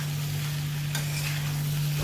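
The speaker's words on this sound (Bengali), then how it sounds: "তো এটাকে কমসে কম 2-3 মিনিট পর্যন্ত মশলার সঙ্গে ভাজতে হবে।" Taro root (arbi) frying with spices in a pan, a steady close hiss of sizzling oil with a soft stirring scrape partway through, no voices.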